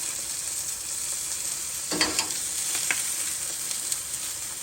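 Chile güeros dropping into a hot pot with chiles and onions for frijoles charos, a loud steady sizzle with a few soft clinks and stirring sounds partway through.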